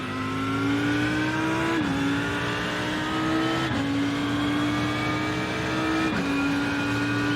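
An Audi race car engine drives laps in a racing video game, holding a steady high-pitched whine that climbs gradually. Three quick upshifts briefly drop the pitch before it rises again, with no talking.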